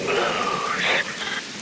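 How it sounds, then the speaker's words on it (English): Steady rain falls in the video game Metal Gear Rising: Revengeance, a continuous hiss of raindrops at moderate level with brief tonal shimmers over it and no talking. "Rain falls."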